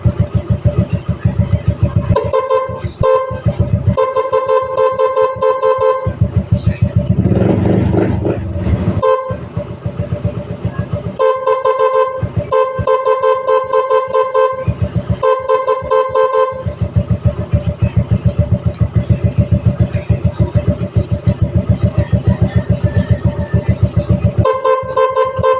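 Repeated Yamaha Mio Sporty motorcycle horn honks sound in bursts, short beeps and longer blasts alternating with brief pauses, loud and close over an idling engine.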